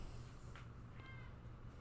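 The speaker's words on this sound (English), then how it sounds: "My cat's meowing." A house cat meows faintly in the background, with a brief soft call or two over a steady low hum, no talk present.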